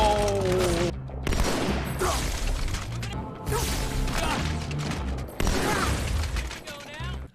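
Jackal sniper fire in Halo 2, heard as sharp, loud repeated shots and impacts over dense game music and effects, with a voice talking over parts of it.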